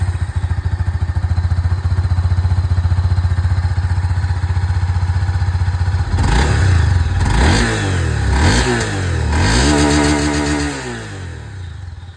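A 2025 Honda CB300F Flex Tech E85 motorcycle idles with a steady throb up close, then is revved several times in rising and falling sweeps before settling back to idle.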